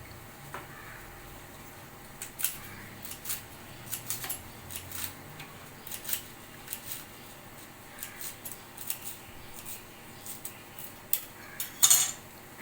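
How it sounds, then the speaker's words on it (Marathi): Colocasia (taro) leaves are chopped finely with a knife on a board, giving faint, steady taps at an even pace that stay close but quiet. "हा जो आळू आहे हा आपण बारीक चिरून घेणार"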